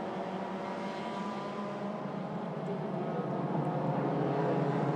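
Race car engines roar steadily past on the Sepang circuit during the 1000km endurance race, a dense, loud drone of motors that swells slightly toward the end.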